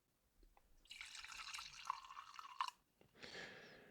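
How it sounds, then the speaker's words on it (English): 100 proof bourbon is poured into a glass in two quiet splashing streams, a longer pour followed by a short pause and a second brief pour, close and soft with no talking. "So let me pour some here."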